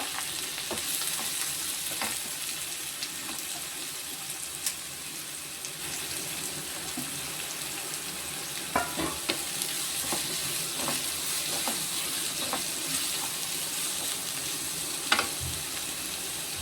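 Finely chopped onion fries in a pan for masala idli, a soft, even sizzle with occasional clinks and scrapes of a spoon against the metal.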